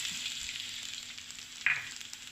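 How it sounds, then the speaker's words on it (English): Garlic frying in fresh oil in a wok for a Kerala fish stew, a quiet steady hiss of sizzling oil with a brief sharper spit partway through. "I drain the oil, and then I put in some oil again, new oil, and I put in my garlic"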